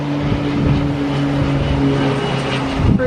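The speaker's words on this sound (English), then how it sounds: "There's a plane." A propeller airplane drones steadily overhead above the Caribbean islands near Tortola in the British Virgin Islands on a summer evening, a continuous engine hum with a low rumble and no voices.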